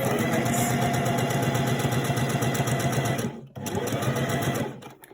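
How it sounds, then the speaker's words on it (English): A sewing machine stitches face mask fabric with a fast, even mechanical whir up close. It stops briefly, starts again and trails off near the end. "In order to sort of seal the edges, I tend to sew backwards"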